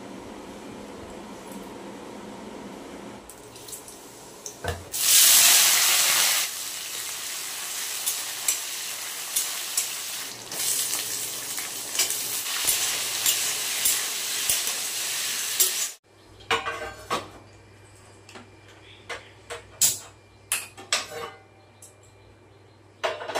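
Pumpkin and potato frying in a pan, a steady sizzle with scraping stirs and clinks, loudest in a burst early on, then dropping to quieter sizzling under a low hum toward the end.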